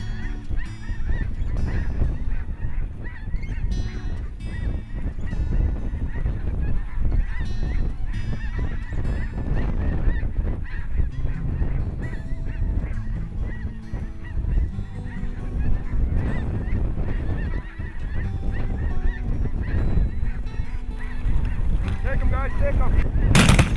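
A large flock of snow geese honks loudly and continuously over a decoy spread in a field, a dense, overlapping chorus of calls lasting throughout.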